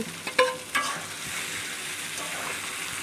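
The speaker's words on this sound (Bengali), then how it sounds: "দিয়ে ভালো করে ভেজে নিব" Boiled potatoes, bitter gourd and lentils frying in a pan, with a couple of sharp stirring scrapes early on, then a steady, even sizzle that carries on alone to the end.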